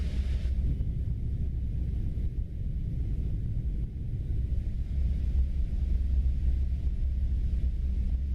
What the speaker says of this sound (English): I can hear the engines.